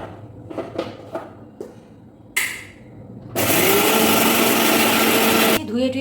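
An electric mixer grinder whirring through white mustard, green chillies and garlic, a loud steady high-pitched roar for about two seconds after some handling clatter and someone talking.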